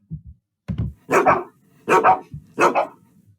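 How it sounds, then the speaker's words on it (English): A neighbor's dog barks three or four times in a close, loud run of sharp barks, with brief pauses between and no talk. "It's a dog"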